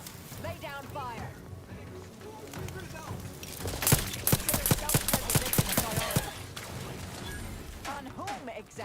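Rapid bursts of gunfire crackle in The Outer Worlds 2 on very hard mode, a loud clustered volley of sharp shots in the middle, with game voices talking before and after.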